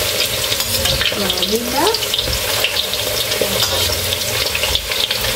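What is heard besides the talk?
pork ribs frying in a pan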